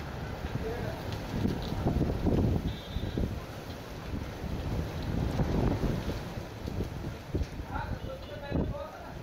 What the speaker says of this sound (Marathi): अर्ध्या तासापेक्षा अधिक वेळ हे वादळी वाऱ्यांचं थैमान सुरूच होतं